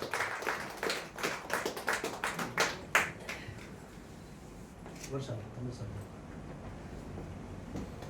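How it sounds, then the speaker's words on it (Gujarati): An audience claps in a burst of applause for about three seconds, a quick run of sharp hand claps in a hall, then fading into quieter room noise with murmurs. "જોરદાર તાળી થવી જોઈએ"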